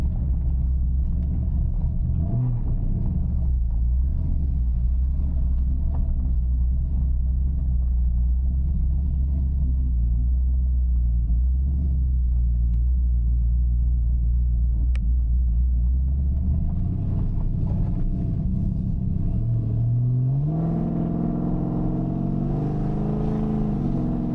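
A car with a muffled aftermarket exhaust, not straight-piped, rumbles low and steady while driving, deep and muffled, then revs up near the end.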